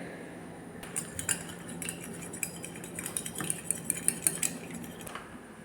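Chicken pieces mixed into three eggs in a bowl for KFC-style fried chicken, with faint scraping and clinking of a utensil against the dish in a quiet room.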